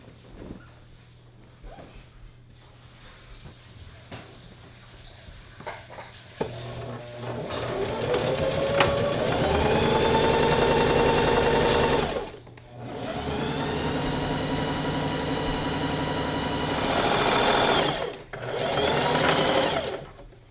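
Sewing machine stitching gathered skirt panels together, starting after a quiet handling stretch and running in loud, steady bursts with brief pauses between them, close by and alone.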